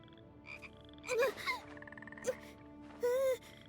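A frog croaks a few times in the video game Genshin Impact: short, quiet croaks spaced across a few seconds over faint game ambience, with one slightly longer croak near the end.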